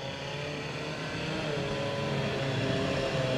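A front-wheel-drive car revs hard in a burnout at a women's demolition derby at Toyota Speedway, a loud, sustained engine roar that swells slightly toward the end.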